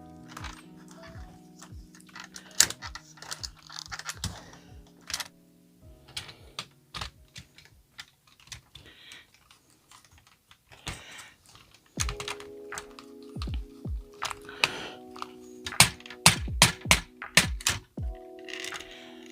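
Ratchet joints on a Moon Studio Raiden Combiner transforming toy click in dense, irregular bursts close up, with sharp snaps and short ratcheting runs spread across the whole stretch and brief quiet gaps between them.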